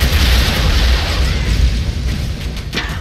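A loud, sustained blast of explosions in the side-scrolling action game Broforce, a dense rumbling roar with bursts layered over each other, heavy through the whole stretch and easing slightly near the end.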